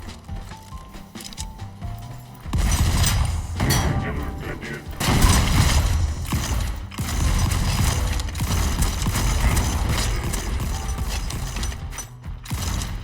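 Shotgun blasts in the video game Volcanoids sound as loud, dense bursts of gunfire over a gritty mechanical rumble, with a player talking over parts of it.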